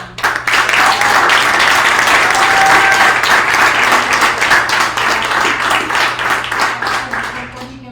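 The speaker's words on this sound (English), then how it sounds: "just really another warm hand of applause for" Warm audience applause for a speaker at a climate discussion event, a loud, dense wash of many hands clapping that holds steady for several seconds and then gradually thins and fades toward the end.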